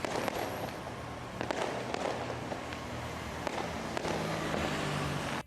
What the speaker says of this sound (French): les populations environnantes lancent les pétards